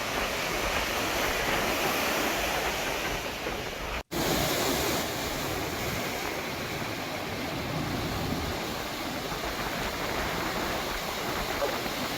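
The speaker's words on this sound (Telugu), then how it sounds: "సముద్రం ముందుకు చొచ్చుకుని రావడంతో తీరం పెద్ద ఎత్తున కోతకి గురవుతోంది." Sea waves surge and break steadily onto the eroding Visakhapatnam shoreline under stormy, rain-alert conditions, a continuous loud roar of surf, briefly cut out for an instant partway through.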